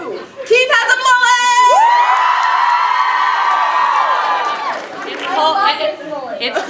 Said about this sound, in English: I can do anything, and they'll just like yell and like clap